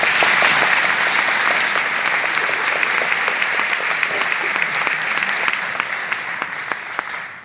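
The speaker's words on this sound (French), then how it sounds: "on peut les applaudir." An audience at a town New Year's greetings ceremony in Vence applauds the local firefighters, a steady dense wash of clapping sustained for several seconds before slowly tapering.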